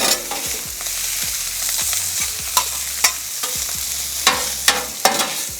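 Rice hitting hot oil on a flat-top griddle with the burners on high, a steady loud sizzle broken by sharp scrapes and clacks of a spatula stirring and tossing the grains, several distinct strokes in the second half.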